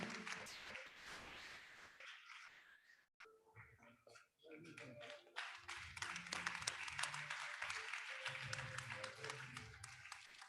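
Convocation audience applauding the Dean of the Faculty of Law, a rustling round of clapping that briefly drops out and then swells back in, with voices mixed underneath.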